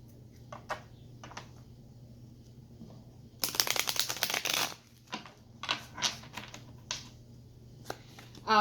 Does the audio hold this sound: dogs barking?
no